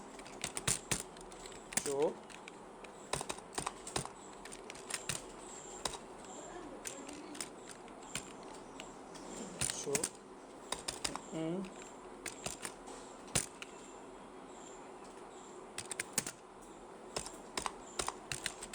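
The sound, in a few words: typing on a computer keyboard in MS Word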